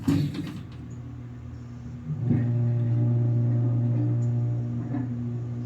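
A steady low hydraulic elevator motor hum drones on after a brief clatter, running evenly for several seconds with faint mechanical ticks.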